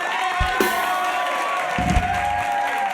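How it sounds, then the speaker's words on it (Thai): An audience at a comedy show in Nakhon Sawan applauds performer M with steady clapping and some cheering, alongside background music and a few low thumps. "ขอเสียงปรบมือให้คุณเอ็มหน่อยนะฮะ"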